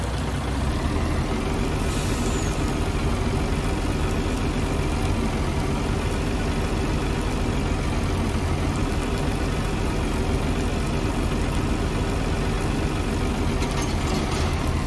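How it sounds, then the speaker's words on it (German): In a farming video game, a truck pulling an overloading wagon drives along with a steady, loud, low engine rumble that holds unchanged throughout, with no talking. "Mein LKW mit dem Überladewagen."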